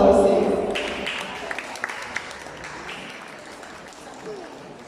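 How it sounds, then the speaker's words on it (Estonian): Audience applause for a competing team at a country dance event, with a voice at the start over a crowd's clapping that fades steadily and has a few sharper claps standing out. "Aplausi!"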